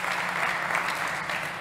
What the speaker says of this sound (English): a big round of applause once again for Tapiola Zenius from Scandal Technologies